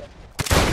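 Squad gunfire in a military team shooter game erupts in a sudden loud burst of shots, dense and sustained after a quiet moment.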